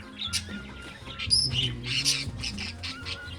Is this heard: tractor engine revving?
no